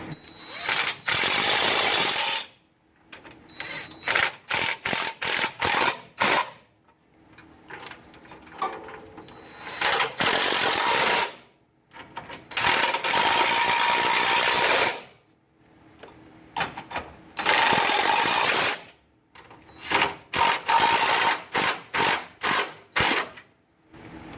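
A ratchet snugs up the transmission bolts on a Ford Super Duty V10 4x4 while the 4R100 is replaced, heard as close, loud bursts of rapid clicking separated by short pauses.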